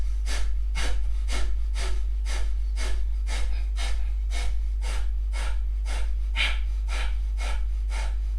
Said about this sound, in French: Expiration active, respiration du feu.